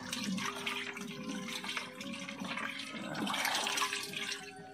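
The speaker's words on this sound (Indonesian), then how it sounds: "setelah bahan organiknya masuk semua, kita aduk" Organic material being stirred into liquid in a sealed fermentation container, splashing and sloshing water in uneven surges, fairly close, with no talking.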